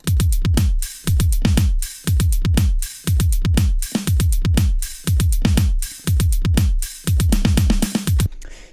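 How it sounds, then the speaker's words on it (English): Programmed drum beat with booming kicks, open and rapid repeating hi-hats, doubled snare hits and a closing drum roll, a dense loud pattern looping about every second. "we've added some open hi-hats, we've added a little bit more repetitive hi-hats"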